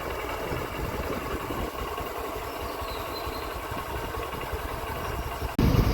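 A motorcycle engine idles steadily, loading potatoes... no, pointed gourds for a village market trip, a continuous low rumble running throughout, close and fairly loud, with a sharper burst of engine noise at the very end.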